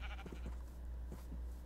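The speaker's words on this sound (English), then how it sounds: "Hey, brown sheep." A sheep bleats a few times in a survival video game, close and fairly clear, with short wavering calls over a low steady background hum.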